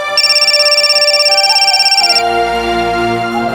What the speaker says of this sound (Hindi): आ गया फोन दामाद जी का, जा।